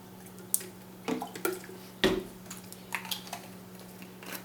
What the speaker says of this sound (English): You can probably hear the ice crack.